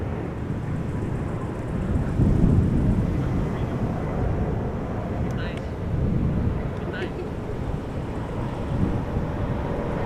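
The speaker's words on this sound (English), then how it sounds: "Landing on the runway that is designated for departures today." An airplane lands at Amsterdam Schiphol Airport on a runway used for departures that day, heard as a distant, low engine roar under wind noise, swelling twice and then fading, with a brief faint high whine.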